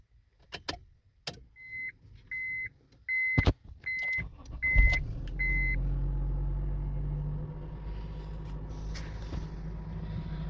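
A Honda CR-V with a rough idle problem: chimes beep and clicks sound before the engine cranks and catches, then settles into a steady low idle hum that continues to the end.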